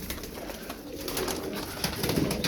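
Well-fed pigeons coo and shuffle in a loft, with soft repeated calls and flutters close by over a busy background and no clear speech.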